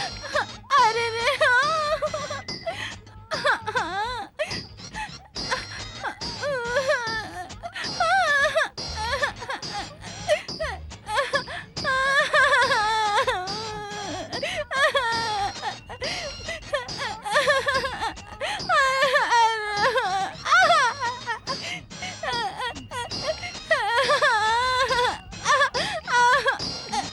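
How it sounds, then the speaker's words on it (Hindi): Crying heard from inside a room in a Hindi film scene: sobbing and wailing runs throughout at steady volume, with people also talking. "अंदर संगीत की बजाय रोने की आवाज आ रही है"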